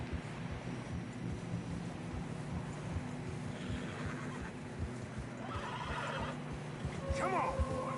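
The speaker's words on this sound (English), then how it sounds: "Horses are struggling." A horse whinnies near the end of a snowy mountain trail ride in Red Dead Redemption 2, rising over a steady bed of hoof plods, wind and game ambience, with a quieter neigh shortly before.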